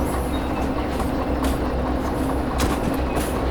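A locomotive rolls along rails in the train simulator game Derail Valley, a steady close rumble with faint clicking and brief squeals over a continuous low drone, with no voices.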